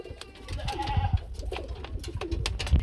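Sirazi pigeons coo softly in a series of low, throaty murmurs, several soft calls overlapping at close range against faint background clatter.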